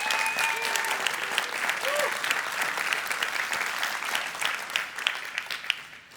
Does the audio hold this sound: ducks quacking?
no